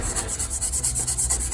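Sandpaper rubbing the wood edge of a door panel being rounded for upholstery, a quick rhythmic series of close back-and-forth rasping strokes.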